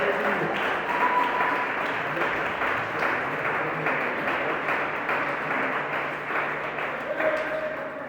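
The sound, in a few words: congregation applauding in church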